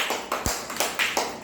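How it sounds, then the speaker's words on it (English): A group of schoolchildren claps in a quick uneven rhythm, about eight sharp claps over a second and a half, close and fairly loud with no talking. "This group, you clap for them."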